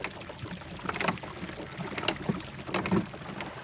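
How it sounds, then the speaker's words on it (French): Oars rowing a small boat on a river, with soft watery splashes and strokes under steady wind and a low, hissing background. No talking. "Dans le fond de l'embarcation, elle trouve des rames. Elle les prend et pagaille quelques minutes."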